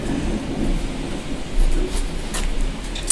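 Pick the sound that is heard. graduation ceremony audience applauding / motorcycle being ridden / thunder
thunder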